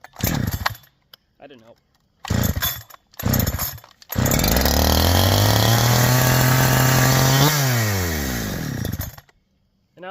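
A Farmertec Holzfforma G372 XP chainsaw fitted with an OEM Walbro HD12 carburetor, stuck on high idle, roars up after brief speech and a few short bursts, holding a loud, steady, near high-rev drone before the pitch drops away.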